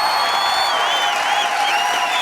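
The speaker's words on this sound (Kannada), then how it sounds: "ಬಲಿ ಚಪ್ಪಾಳೆ." Studio audience cheering and clapping for Karna and Sahitya, the lead pair of the Colors Kannada serial Karimani, on the comedy show Gicchi Giligili; a steady, dense crowd roar with whoops over it, continuous throughout.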